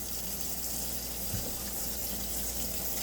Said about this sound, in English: So about done washing it.